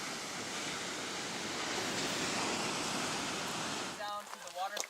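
Ocean waves wash onto the beach at Point Reyes at sunset, a steady close roar of surf with wind noise, fading near the end as some light rustling and movement take over.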